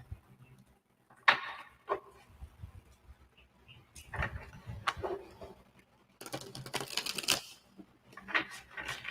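Large tarot cards from a Crystal Power deck are shuffled clumsily by hand, with close, scattered riffles, taps and rustles and one longer burst near the end.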